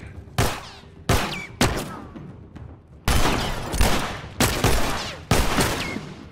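Gunshots from The Last of Us Remastered game ring out as about seven loud, sharp single shots spaced unevenly, each with a short decaying echo and clicks between.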